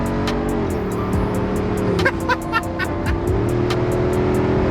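A 2023 Jeep Wrangler Rubicon 392 accelerates hard on the freeway, its loud engine note rising steadily with brief dips at gear changes, heard from inside the cabin over steady road and wind rush.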